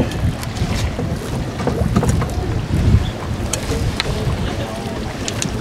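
A schooner sailing upwind off Kennebunkport, Maine, with steady wind rushing across the microphone and water washing against the hull in a continuous, close wash.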